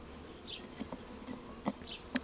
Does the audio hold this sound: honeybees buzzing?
yes